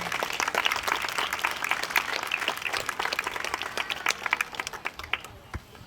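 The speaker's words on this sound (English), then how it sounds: "Let's give a round of applause for them." Outdoor crowd at a Labour Day celebration in a Burnaby park breaks into applause: dense, lively clapping that thins out toward the end.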